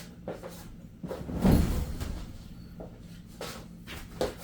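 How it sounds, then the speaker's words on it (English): The top of an Eskimo QuickFish 3 pop-up ice fishing shelter is pushed up from inside: a few scattered soft knocks and rustles lead to one louder fabric-and-frame pop with a thump, then quieter handling clicks, close by. "So I'm gonna go inside, pop up the top here."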